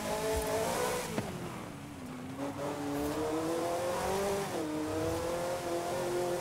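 A car in Forza Horizon 5 revs hard and loses grip around 5,000–6,000 RPM, its engine note droning and wavering steadily with rising and falling pitch, loud and continuous, with a faint tire squeal mixed in.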